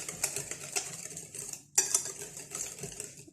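Orange cake batter being mixed by hand in a bowl, with a utensil scraping and clinking against the bowl in steady close strokes and a brief pause midway.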